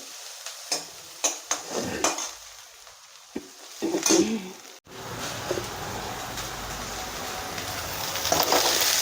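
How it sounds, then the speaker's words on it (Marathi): Onion roasts in a pan over a low flame. Light metal clinks and scraping of a utensil come first, then a soft, steady sizzle continues close by. "कांदा जो आहे तो लो फ्लेमवरती आपण भाजून घेणार आहोत"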